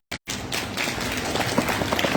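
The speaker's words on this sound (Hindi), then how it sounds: "ताली बजाइए।" A yoga class claps their hands together, a short burst of group clapping that starts abruptly and carries on as a steady patter of many hands, fairly near.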